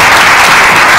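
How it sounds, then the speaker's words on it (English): Applause from an audience at a town hall, a dense burst of clapping that fills the brief moment, loud and close, with no voices over it. "Please give yourself a resounding round of applause."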